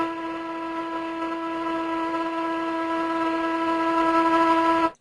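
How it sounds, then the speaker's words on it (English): A ship's whistle on a vessel over 100 meters long sounds one long, steady, unbroken blast that holds for about five seconds before cutting off abruptly. "If the vessel is longer than 100 meters, or 328 feet, it should have a whistle."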